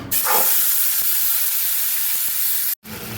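Tomato paste hits hot oil tempered with bay leaf and black cumin, a loud, broad sizzling hiss that holds steady for nearly three seconds, breaks off briefly, then resumes.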